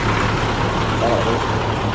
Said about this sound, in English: It's a truck passing.